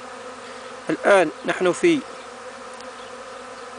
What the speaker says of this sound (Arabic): وتلاحظون أن النحل يجمع حبوب اللقاح أو يجمع بدائل اللقاح